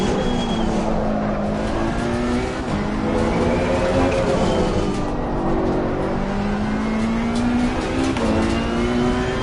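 Ferrari Challenge race car at Imola in Assetto Corsa Competizione, its engine droning loud and continuous as it revs through the gears with the throttle feathered, pitch rising and falling with brief dips between shifts.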